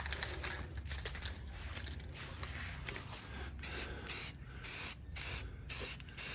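Spray paint hisses onto an assembled rifle with its optic capped, a faint continuous background followed by six sharp, loud bursts of aerosol spraying in a regular on-off rhythm.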